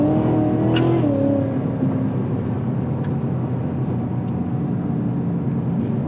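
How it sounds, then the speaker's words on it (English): A 2019 Cadillac CTS-V pulls hard under acceleration, a supercharger whine riding over a loud exhaust roar that rises, then settles into a sustained drone heard from inside. "Not just the exhaust noise, but that supercharger noise, man."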